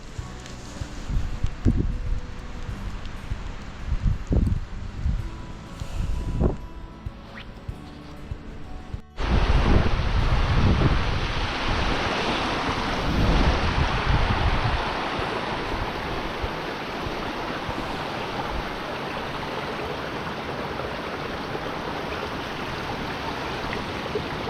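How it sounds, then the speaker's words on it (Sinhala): Wind gusts roar steadily across the wintry slopes of Glyder Fawr, with light snow falling; the first part is quieter and broken by brief knocks, then a loud, dense rush of wind buffets the microphone continuously to the end. "මේ හරියට ඒ හුලඟේ ගහගෙන ඇවිල්ලා ඒ වතුර බිඳු මේ පැත්තට හිම විදියට වැටෙන්නේ"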